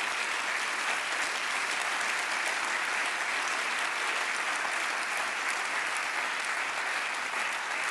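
An audience applauds at a French political gathering welcoming a prime minister, a loud, even, continuous wash of clapping from a large crowd that never lets up.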